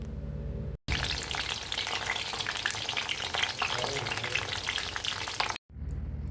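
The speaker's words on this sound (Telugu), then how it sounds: "కడాయిలో ఆయిల్ పోసుకొని ఈ వంకాయలను డీప్ ఫ్రై చేసుకొని పక్కకు పెట్టుకోవాలి" Eggplants deep frying in oil in a kadai make a loud, dense, continuous sizzle and crackle. The sound cuts off briefly at the start and again near the end.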